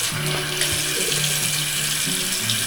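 Water runs steadily from a tap into a sink for a quick rinse of a razor, a close, continuous splashing hiss that stays even throughout.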